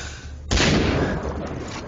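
Gunfire from the video game Far Cry 3 cracks in abruptly and keeps roaring as a dense, loud burst that blurs into sustained fire and echo, with no talk over it.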